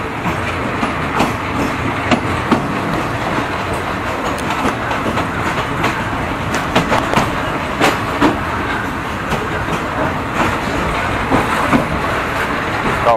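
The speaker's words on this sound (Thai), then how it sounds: "ตอนนี้รถไฟกำลังเข้าสู่สถานีรถไฟสุราษฎร์ครับ" A Thai passenger train, service 167, rolls into Surat Thani station with steady wheel clatter and rumbling rail noise that holds fairly loud and close across the whole stretch, with no voices over it.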